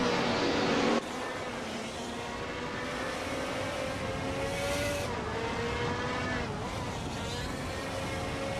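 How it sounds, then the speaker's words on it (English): Race car engines in a racing video game, a sustained droning whine whose pitch shifts and sweeps as the cars speed past and change gear, loud and continuous with no voices. "The sound of those engines is really something, right?"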